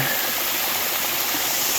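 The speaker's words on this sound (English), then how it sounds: "there's a waterfall down there" A steady, full roar of falling water on the Ozark Highlands Trail, broad and constant with no pauses, like a waterfall heard from nearby.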